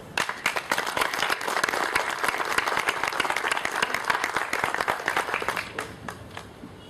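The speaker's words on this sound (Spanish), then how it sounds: "vamos a recibir con un fuerte aplauso al doctor Guillermo Aznarán" Sustained applause from an audience at a Colegio de Economistas de Lima lecture welcoming a speaker, dense and steady for several seconds before tapering off near the end.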